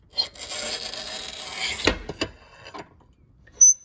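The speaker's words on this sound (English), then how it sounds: "push against the handle so it scores it, and you'll hear a scratchy sound" A flat bed tile cutter scores a tile for mosaics, giving a continuous scratchy rasp for nearly two seconds, followed by a few short scrapes and clicks and a brief high squeak near the end; close and fairly quiet, with no talk.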